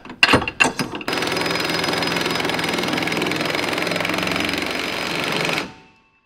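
A few sharp knocks, then a power tool driving bolts whirs loudly and continuously for several seconds before stopping abruptly.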